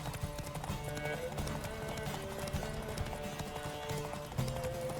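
Horse hooves clip-clop at a rapid galloping rhythm, steady and close, over a continuous bed of game music and ambience while riding in The Witcher 3: Wild Hunt.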